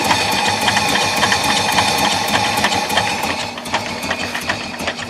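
A 1970s Mercedes engine idles at a very low, steady speed, with fuel leaks around it. The rapid, even mechanical chatter holds close and constant, and a faint rumble sits underneath throughout.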